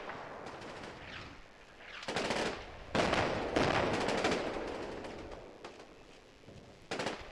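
Gunfire in a wargame video game: scattered bursts of distant rifle and machine-gun shots, some sharp and close, others muffled, spread irregularly across the scene.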